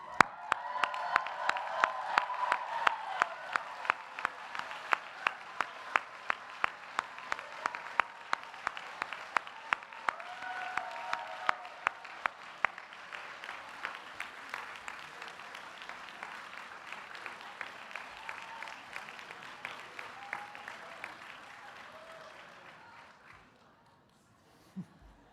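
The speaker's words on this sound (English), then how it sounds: "rise and applaud those friends and family members who have helped them to be here today" Master's graduates at a Columbia University class day ceremony stand and applaud their friends and family. The clapping is broad and sustained for over twenty seconds, with scattered cheers and loud close claps near the front, before it dies away.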